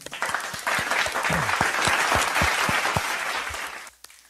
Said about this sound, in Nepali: अनि फर्स्टमा चाहिँ सबैजनालाई एकचोटि ताली बजाइदिउँ